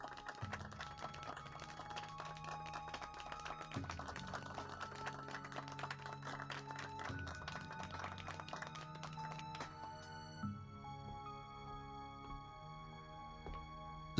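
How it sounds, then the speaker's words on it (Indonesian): Shareholders at a boardroom meeting applaud, a dense patter of claps over background music that continues for several seconds and then stops, leaving only the music. "Tepuk tangan."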